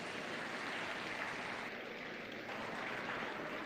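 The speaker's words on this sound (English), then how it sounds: "Let's give them a round of applause." An audience at a 4-H market steer show gives steady applause for the reserve champion Chianina steer, a continuous, moderately faint wash of clapping with no break.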